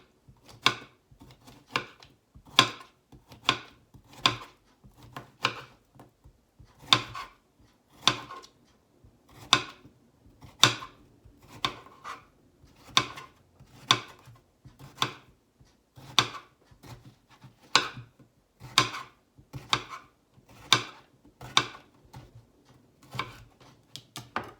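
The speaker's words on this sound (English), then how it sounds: "Gonna start slicing them up." A knife slices bitter gourd (ampalaya) on a cutting board, producing a long series of crisp, evenly spaced chops about one per second, close and clear with no talk.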